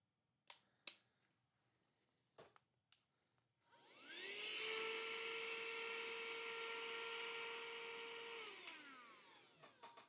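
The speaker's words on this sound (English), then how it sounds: "This is a vacuum aspirator. So you don't have to like actually use your mouth power to suck things up." A small handheld electric vacuum aspirator for collecting insects starts up after a few faint clicks. It runs as a loud, close, steady high-pitched whine for about five seconds, then winds down and stops.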